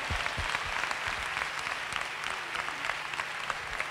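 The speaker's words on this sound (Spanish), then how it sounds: "Fuerte aplauso para él." An audience at a rock choir performance in Alcorcón applauds steadily, moderately loud clapping continuing throughout without a break.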